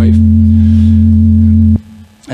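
FM synthesizer tone built from a parabolic waveform close to a pure sine, a steady loud sustained pitch with few harmonics that cuts off abruptly and briefly returns at the end.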